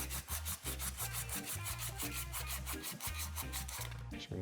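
Rhythmic back-and-forth rubbing of an abrasive on metal, taking flash rust, oil and scale off a motorcycle battery box part before welding, about a dozen even strokes, close and alone.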